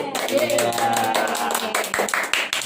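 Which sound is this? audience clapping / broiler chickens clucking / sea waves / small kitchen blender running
audience clapping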